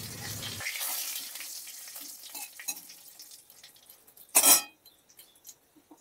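Dried red chillies, bay leaves and whole garam masala sizzle softly in hot oil as they are stirred in a pan for a Bengali rui fish kalia, with a brief loud metallic clink of the spoon near the end.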